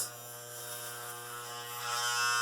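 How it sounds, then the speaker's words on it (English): Electric hair clippers, oiled but rusty from little use, buzz steadily and loudly through a haircut, a constant close mechanical drone with no talking. "the clippers are so loud"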